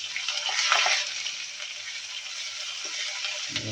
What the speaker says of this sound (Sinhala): මේක ටික හොඳට බැදෙනවා.